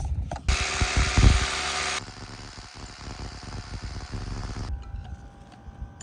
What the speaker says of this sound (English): Drilled these 7 inches deep.